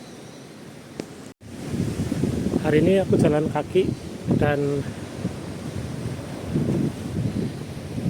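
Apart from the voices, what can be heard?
strong sea wind blowing in rural Japan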